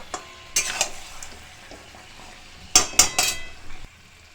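Mutton and potatoes sautéing in a pan, with a low sizzle and several quick metallic scrapes and clinks of a spoon stirring, bunched into short bursts, close and without talk.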